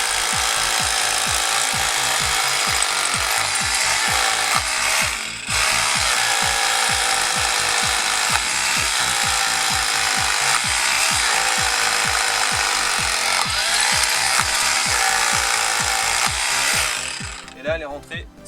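An AEG BBH18 rotary hammer drilling with a 12 mm bit, giving a loud, continuous rapid hammering rattle with a steady motor whine that runs throughout and stops near the end.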